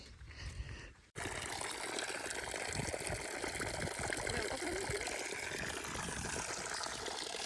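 Water runs through an irrigation channel on a farm, starting with a quieter murmur that suddenly gives way to a steady, close, broadband rush.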